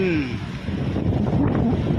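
Monsoon wind rushes past the microphone during an afternoon ride along Roxas Boulevard by the sea, a dense steady roar with faint talk underneath.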